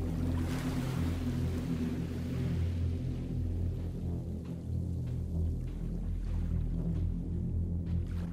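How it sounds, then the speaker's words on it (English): Waves of cloud breaking along an island shore in the video game SIGNALIS: a loud, steady, rolling wash with deep rumble and wind-like hiss, continuous throughout with no talking. "Along the shore, the cloud waves break, the twin suns sink"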